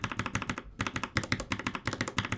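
Typing on a Keychron K14 70% mechanical keyboard fitted with brown tactile switches: a steady run of close, crisp keystrokes with one brief pause, heard alone without talk.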